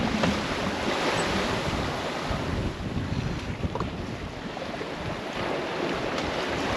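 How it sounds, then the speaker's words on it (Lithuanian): Sea waves and strong wind roar continuously around a boat at sea on a voyage from Germany to Lithuania, with heavy wind buffeting and the wash of water, no voices. "Tos bangos matosi, o ten lūžta tos didelės."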